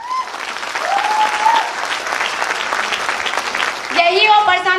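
Crowd applause at a company event, dense clapping building and swelling, with a voice speaking over it at the start and a brief whoop near the end.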